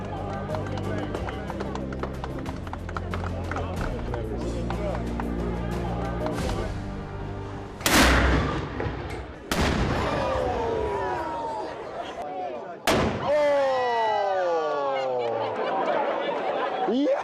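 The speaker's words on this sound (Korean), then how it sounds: "이거 뻥튀기 소리가 아니고 정말 대포 소리입니다" A real cannon fired as a traditional city time signal, reaching about 130 dB, booms out suddenly and echoes away. A second blast follows a few seconds later, over background music and people talking.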